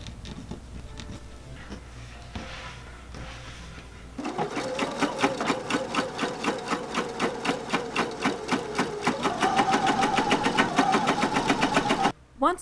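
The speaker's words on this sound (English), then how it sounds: "I sewed all of the panels together." A sewing machine stitches evening dress panels together in a fast, steady rhythmic chatter that grows slightly louder and quicker before stopping abruptly, after a few seconds of quiet room noise.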